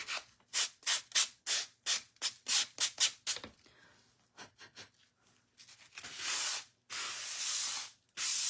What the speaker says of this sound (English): I got this little sanding sponge at Dollar Tree a while back